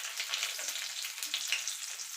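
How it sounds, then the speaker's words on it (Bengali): Chopped garlic sizzles steadily in hot oil over a cumin-seed tempering for a dry Bengali yard-long bean and potato curry, a close, continuous hiss with faint stirring. "রসুন কুচিটা একটুখানি ভাজা ভাজা করে নেব।"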